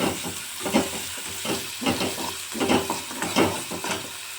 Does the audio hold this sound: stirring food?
yes